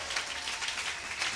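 A church congregation applauds and cheers for Jesus, steady dense clapping and crowd noise filling the room at a moderate distance without a break.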